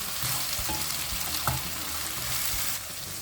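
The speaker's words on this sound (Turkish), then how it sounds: "Tenceremizin kapağını açıp ara sıra karıştıralım." Minced meat and peppers sizzle steadily in an uncovered pot for eggplant oturtma, with a steady close frying hiss and occasional stirring scrapes.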